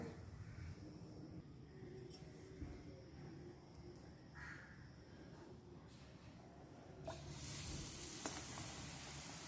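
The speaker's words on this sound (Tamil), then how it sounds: "இதை அப்படியே நம்ம டீப் ஃப்ரை பண்ணி எடுத்துக்க வேண்டியது தான்" Batter-coated stuffed chillies for bajji deep frying in hot oil, giving a soft, steady bubbling sizzle at low volume. Faint crow calls sound in the background, and the frying swells slightly louder near the end.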